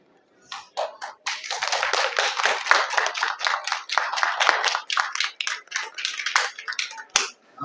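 Audience applause breaks out at an anime convention organizer panel in Oklahoma City, a dense run of many hands clapping that swells quickly, holds steady for several seconds, then thins into scattered claps.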